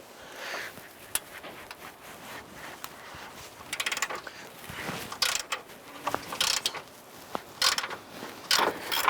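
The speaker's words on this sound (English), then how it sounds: "We're using an 18mm socket on a ratchet to go ahead and loosen this." Ratchet with an 18mm socket loosening a control arm bolt on a 2002-2007 Jeep Liberty, irregular clicking and metallic clacks in short bursts mixed with clunks, close and moderately loud.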